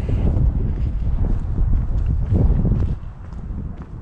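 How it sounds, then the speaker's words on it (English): Strong wind on top of Vitkov Hill in Prague buffets a microphone in heavy, low rumbling gusts that ease slightly near the end. "hopefully you can still hear me because it's quite windy on top of here"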